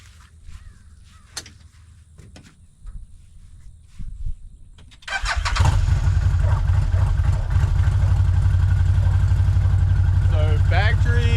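Quiet clicks and shuffling, then a CFMOTO Zforce 950 HO EX side-by-side UTV engine with factory exhaust starts and settles into a loud, steady idle with a rough mechanical rumble.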